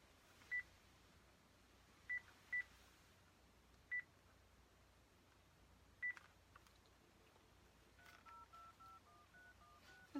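Someone presses a telephone keypad, producing about five short, separated dialing beeps spread over several seconds, then a quick run of tones near the end, all faint against a quiet, hissy background.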